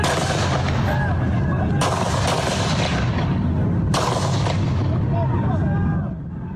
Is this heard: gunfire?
yes